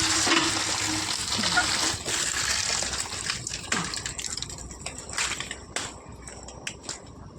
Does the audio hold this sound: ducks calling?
no